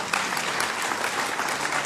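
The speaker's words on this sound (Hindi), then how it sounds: "ताली बजाओ सर के लिए एक बार जोरदार" Brief burst of audience clapping for a presenter at a meeting, a dense even patter of many hands at moderate loudness, sustained and unbroken.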